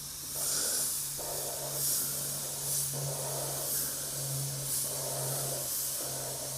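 Cheap airbrush spraying paint in short bursts, a steady airy hiss that swells and drops in a regular rhythm over a low compressor hum, close and fairly quiet with no talking.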